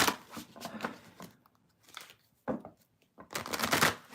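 Tarot cards being shuffled by hand, coming as several quick riffling bursts separated by short pauses, close and fairly quiet, with no talking.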